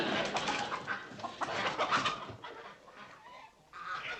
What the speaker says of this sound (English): Betty Jo, there are chickens in the lobby.